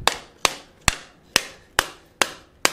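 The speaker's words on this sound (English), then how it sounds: "So I'm gonna go ahead and" A hammer strikes a fold-formed metal bowl in seven sharp, evenly spaced blows about every half second, each ringing briefly before the next, close and loud with no talk.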